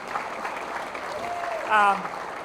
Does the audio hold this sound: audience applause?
yes